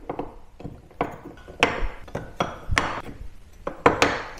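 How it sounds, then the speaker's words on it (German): Kitchen knives are dropped one after another into a holder, giving a series of sharp, close clinks and knocks spaced irregularly over a few seconds, with no talking. "Ich lege die Messer hier rein."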